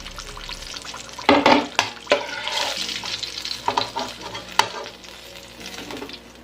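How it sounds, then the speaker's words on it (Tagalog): Hot oil sizzles and crackles steadily as tempura deep-fries, punctuated by stirring clatters and scrapes from a utensil. "iprito lang natin lahat yung ating tempura hanggang sa maubos natin lahat"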